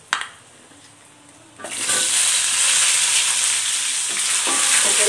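A large handful of onions drops into a hot pan of oil for coriander chutney: a faint clink, a quiet pause, then a sudden loud, steady sizzle that carries on close up with no talking.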